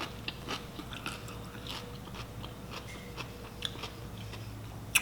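A fresh cucumber is bitten and chewed up close, giving repeated crisp crunches and wet chewing sounds in an irregular rhythm, alone with no talking.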